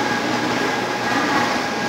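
Steady, loud broadband rumble of a Japanese bullet train running toward Hiroshima, heard from inside as an even, continuous roar with no voices.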